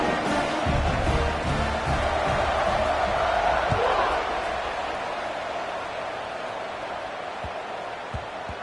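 Football stadium crowd roaring steadily at a kickoff, a loud broad wash of cheering that swells and then eases slightly, with a few sharp thumps and shouts poking through.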